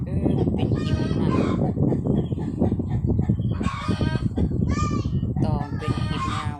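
Loud chicken clucking and cackling in quick repeated bursts, with several birds calling over each other close by.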